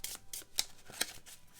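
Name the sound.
shuffling GI Joe Mission Critical game tokens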